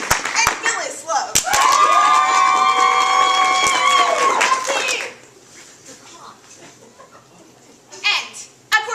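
A theater audience at a live murder-mystery show bursts into loud clapping and cheering that lasts about four seconds, then drops to quiet murmuring before a brief second swell near the end.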